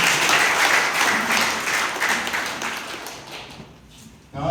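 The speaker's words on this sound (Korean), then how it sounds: "큰 박수 한번 부탁드리겠습니다." A crowd applauds dense and loud at the Jeju campaign committee launch for People Power Party candidate Kim Moon-soo; the clapping holds steady, then thins and fades out near the end.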